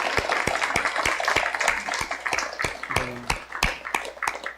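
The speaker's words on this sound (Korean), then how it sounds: "우리 박수로 환영하겠습니다." A church congregation claps to welcome a visitor in a sparse, scattered round of applause, with individual claps standing out against a soft room murmur.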